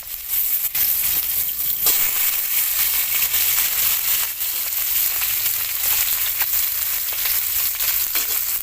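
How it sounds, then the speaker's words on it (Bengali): Bitter gourd frying in oil in a hot wok makes a steady, loud sizzle with crackling bursts and occasional stirring scrapes, with no talking. "প্রথমে আমি উচ্ছেটা ভেজে নেব।"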